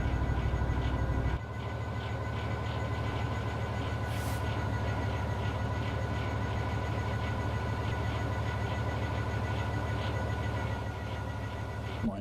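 Train Sim World freight run on the Skyhook cargo line, heard from the cab: a steady, loud low rumble and rhythmic wheel clatter carry on throughout, dropping slightly after an initial heavier roar.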